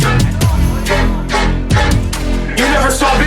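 A dubstep lead synth made in Serum 2 plays a choppy rhythmic pattern over heavy drums and bass, with punchy repeating stabs, loud and dense with no voices.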